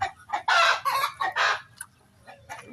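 Chickens clucking in bursts, loud and close, with a rooster's crow mixed in among the calls.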